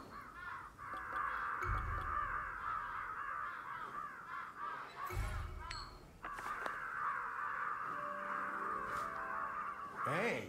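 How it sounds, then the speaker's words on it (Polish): Ravens in the Ghostwire: Tokyo video game caw repeatedly through steady urban ambience, with a few louder low thumps and shuffling sounds between the calls. "Te kruki mnie wkurzają, powiem wam szczerze."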